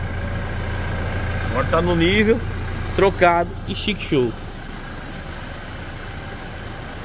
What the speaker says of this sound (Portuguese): Tá com o motor ligado para ver o nível do câmbio